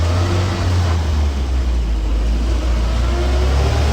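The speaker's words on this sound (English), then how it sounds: "And we can go up through the gears here." A 1959 Land Rover Series II 109-inch pickup in four-wheel drive pulls in second gear over gravel, its engine a loud, steady low drone with a continuous rumble throughout and no voices.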